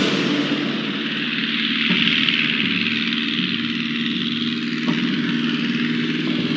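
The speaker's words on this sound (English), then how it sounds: "Float plane operations at night are notoriously dangerous." A float plane's propeller engine drones steadily in flight over Alaskan water at dusk. The sound is a loud, continuous, even roar with no pauses.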